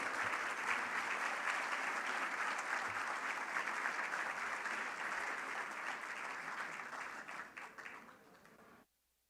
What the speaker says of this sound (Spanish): un fuerte aplauso y lo invito a subir al estrado